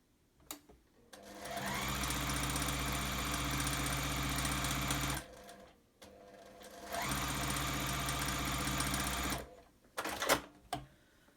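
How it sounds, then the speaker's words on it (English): A sewing machine stitches a quarter-inch seam across a 3D big block baby quilt, running steadily in two long, loud bursts with a brief pause between them and a few handling clicks at the end. "Let me sew it."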